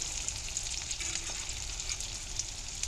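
Apples sizzle in a hot cast iron skillet in a greenhouse, giving a steady close crackle of frying that runs unbroken from start to finish with no voices over it.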